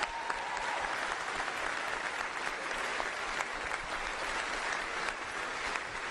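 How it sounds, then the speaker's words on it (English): A crowd at a NASA event announcing the Artemis II astronauts claps steadily and continuously, a dense wash of applause that neither builds nor fades. "Please give them a round of applause."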